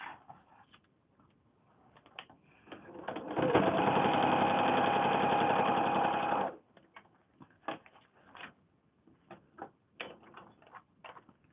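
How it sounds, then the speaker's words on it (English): A sewing machine stitches steadily through foundation paper piecing for a windmill or star quilt block, running in one continuous burst of about three seconds between quieter handling sounds. "I'm going to sew through the papers because I just want to keep the points."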